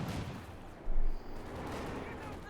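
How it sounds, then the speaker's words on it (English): Bazooka fire hitting a Panther IV tank in Company of Heroes 2, with a dense battle din and one heavier blast around the middle, while a commentator talks over it. "Bazooka fire down the Panther IV"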